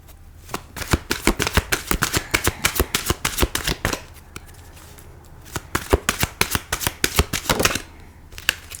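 Tarot cards are shuffled in rapid, crisp riffling bursts, a long run of close snapping card flicks, a brief pause, then another flurry of shuffling, all close and without talk.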